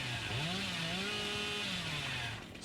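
The Billy killer's chainsaw in the video game Dead by Daylight revs with a rising, wavering whine that holds and then dips, fairly quiet and heard alone.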